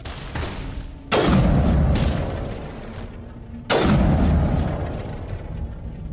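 Two heavy sniper rifle shots boom out in Mass Effect Legendary combat, each a loud sharp crack with a long rumbling tail, spaced about two and a half seconds apart.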